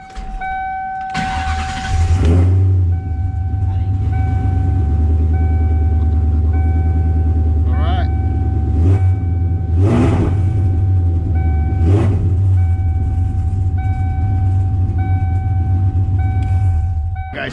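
Coyote V8 in a Fox body Mustang cranks, fires and settles into a loud, steady, deep idle with a couple of throttle blips, close up.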